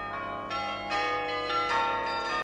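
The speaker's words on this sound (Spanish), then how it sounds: "van a tañer campanas afinadas a una tonalidad distinta cada una" Tuned bells, each pitched to a different note, rung by a cam-driven lever mechanism. A steady sequence of clear ringing strikes, one after another, with long overlapping tones. Loud and close, with no talk.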